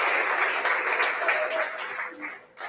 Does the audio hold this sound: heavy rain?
no